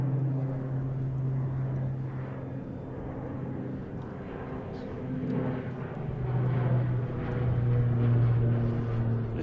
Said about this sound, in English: I see Korean Airlines backing up over here.